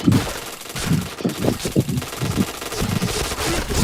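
Rapid gunfire in the Point Blank shooter game, repeated bursts of close, punchy shots in uneven clusters throughout, with no talking over them.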